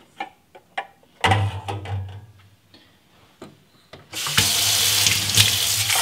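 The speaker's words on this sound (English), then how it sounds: "And rinse them off in cold water." Cold tap water runs into a kitchen sink, loud and steady, with clicks and brief splashes first, then a sustained rushing stream, while eggs preserved in lime are rinsed.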